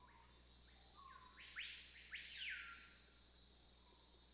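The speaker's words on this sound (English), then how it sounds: "I like the bird noises" Birdsong in a garden scene from the Nancy Drew game Secret of the Scarlet Hand: a few clear chirps and a brighter warbled call midway, over a faint steady background hum.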